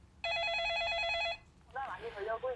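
A telephone bell rings once in a single sustained burst of about a second, fairly clear, and a voice follows right after it.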